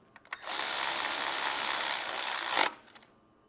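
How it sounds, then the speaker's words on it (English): A power tool or ratchet tightens the ignition coil bolt on a Toyota Prius engine, one continuous loud whirring run of about two seconds, close up, preceded and followed by a few small clicks. "We're gonna tighten the bolt."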